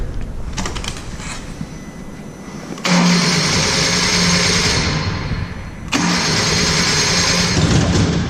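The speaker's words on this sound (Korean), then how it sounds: "자, 그걸 빼놓고 시동 걸어볼게요" A Hyundai Avante MD GDI 1.6 engine on a training simulator cranks without firing, its crankshaft sensor unplugged; a short burst of cranking, a pause, then a second loud sustained cranking run, close by and with no talk.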